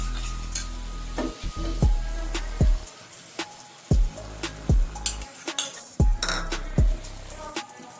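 Chicken with yogurt being stirred in a pan over low flame for a Kolkata-style red spicy doi chicken, with repeated scraping strokes of a spatula against the pan over a steady sizzle, close and fairly loud.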